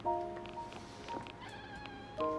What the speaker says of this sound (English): My cat's making noises